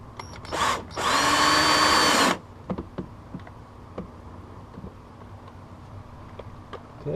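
A power drill drives a self-tapping screw into the front spoiler lip of a Honda Civic Si. One short whir is followed by a longer, loud run of about a second. Faint clicks and handling noises follow.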